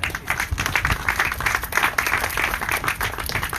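An audience claps at a ribbon cutting for Del Puente Cafe, a dense burst of applause from a small crowd that runs steadily throughout.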